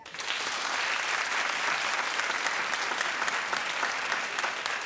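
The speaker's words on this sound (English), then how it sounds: "Oh, clap if you would." A studio audience at a talk show claps loudly and evenly. The dense applause swells in quickly and holds for several seconds.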